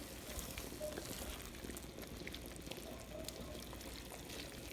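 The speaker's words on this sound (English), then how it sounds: "And I'm also going to add my 4 cups of vegetable broth." Vegetable broth is poured into a soup pot for a chipotle black bean soup, a steady faint splashing and gurgling stream with light simmering texture, continuous and close.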